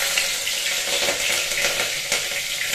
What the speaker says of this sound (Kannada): ಫಸ್ಟು ಮೆಣಸಿನ್ಕಾಯಿ ಹಾಕ್ತಾಯಿದ್ದೀನಿ